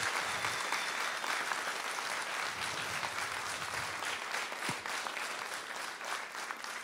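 Dense audience applause fills a school music concert marking the end of the school year at a music school, a steady, sustained burst of clapping from many hands that holds at an even level throughout.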